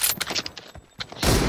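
Gunfire in the mobile battle-royale game PUBG Mobile: a quick burst of several sharp shots, close and loud, ending in a heavier blast.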